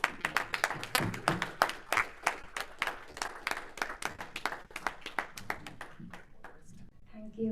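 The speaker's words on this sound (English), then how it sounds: "Keep clapping till she comes here." A room full of people at a Toastmasters club meeting clapping steadily, the claps close and sharp, fading toward the end as a few voices begin.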